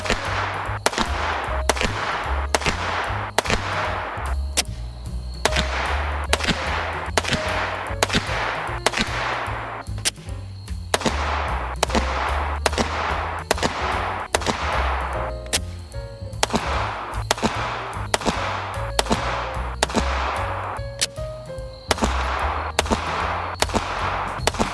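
Repeated 9mm shots from a 4.3-inch Arken Gen 2 Type B pistol, fired at a steady, fairly quick pace through a long string, each crack sharp and loud with a short tail and no talking in between.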